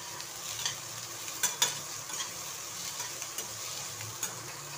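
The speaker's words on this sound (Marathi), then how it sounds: "कांदा भाजायला थोडा टाईमच घेतो." Onion fries and sizzles in a pan with a steady hiss, while a spoon stirs it with soft scraping clicks, close up and with no talking.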